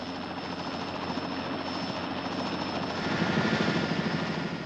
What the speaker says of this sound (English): A helicopter returning from fire patrol in Canada's Northwest Territories passed over the northwest corner of Wood Buffalo National Park.